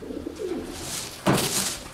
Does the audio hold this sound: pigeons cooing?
yes